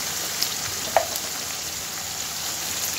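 Something fries in a pan with turmeric and salt just added, giving a soft steady sizzle with a couple of brief clicks.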